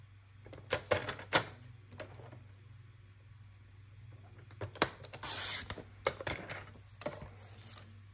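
Paper is cut into narrow 8 mm strips for a scrapbook album, giving sparse, quiet snips and clicks in short clusters that stand out against a faint, steady background hum.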